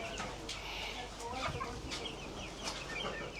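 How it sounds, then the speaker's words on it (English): Chickens cluck and chatter continuously at close range, with a steady background hiss and no talking. "Other chickens in there."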